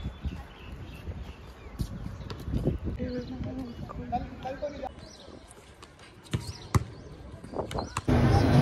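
A basketball bounces on an outdoor court in irregular, sharp thumps spread across the moment, mixed with voices and general background noise.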